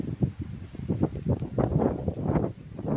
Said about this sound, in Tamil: அவ்வளோ அந்தளவுக்கு காற்று அடிச்சிருக்கு